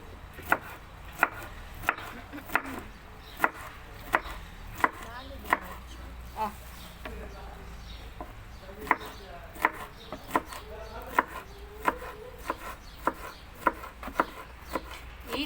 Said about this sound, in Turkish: Tahtada doğrasam tahta kötü olur mu?